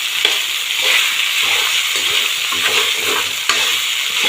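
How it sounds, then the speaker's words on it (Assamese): Steady sizzling frying with repeated scraping stirs as fried rice with onions is tossed in a hot pan for an Assamese home recipe, close and continuous, no talking. "এতিয়া আপোনালোকে এনেকৈ কৰচেদি লাৰি দিব"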